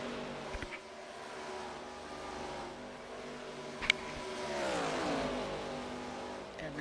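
ARCA race cars at Chicagoland Speedway, a continuous engine drone with a car whining past mid-clip, its pitch sliding downward as it goes by, with commentary over it.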